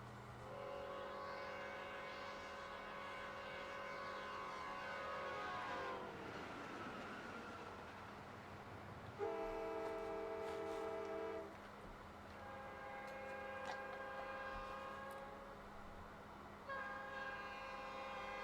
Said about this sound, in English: The units came equipped with either a Nathan P5A or K5LA air horn. Here's a few samples.